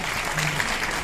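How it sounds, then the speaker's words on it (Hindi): Audience applause at an award-show stand-up comedy performance, a steady wash of clapping from the crowd throughout, loud and continuous. "बिहारी लोग हैं, ताली बजा दीजिए"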